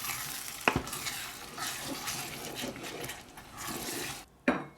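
Tinned spaghetti bolognese heats in a pan, a soft continuous sizzle and bubbling with a sharp metallic clank near the start and another clatter near the end as the lid or spoon hits the pan.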